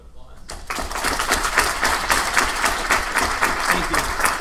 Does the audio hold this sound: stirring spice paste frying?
no